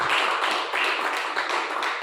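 A crowd at an organization's declaration event applauds a guest with steady, moderately loud clapping that swells in short waves and continues without any talking.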